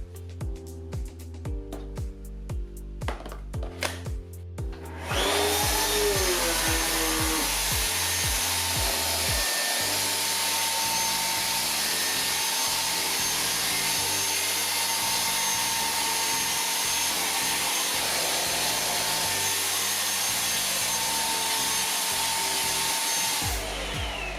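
JIMMY JV35 handheld vacuum cleaner running over a mattress, starting with a rhythmic tapping pattern before the motor kicks in to a loud steady whine with beating pulses, continuous and close until it cuts off.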